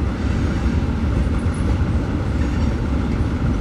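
A Norfolk Southern freight train with boxcars rolls past near Greenville, South Carolina, a steady loud low rumble of wheels on rails that holds constant throughout, with no talking.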